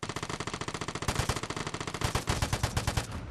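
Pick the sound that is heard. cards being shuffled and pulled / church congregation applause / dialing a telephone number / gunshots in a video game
gunshots in a video game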